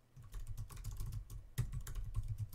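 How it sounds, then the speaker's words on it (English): Rapid typing on a computer keyboard during a typing race, dense continuous key clatter near and fairly loud, with no talking. "We're going to do a typing race."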